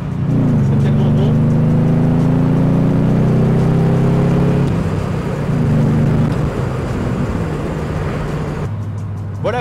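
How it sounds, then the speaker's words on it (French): A 2003 Morgan Plus 8 35th Anniversary roadster's V8 engine revs up loudly nearby with rising pitch, holds, then eases off and settles back toward idle. "on prend vite goût avec ce V8 à ce bruit qu'on ne retrouvera pas sur les Roadster V6"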